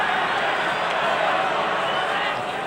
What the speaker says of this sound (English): Some of the crowd on the far side don't like it